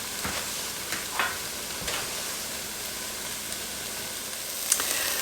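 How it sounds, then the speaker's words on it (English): Celery, garlic, jalapeno and parsley sweat and sizzle in a pan, a soft continuous frying hiss broken by occasional stirring scrapes and a brighter clink near the end. "We're going to saute those and just sweat them a little"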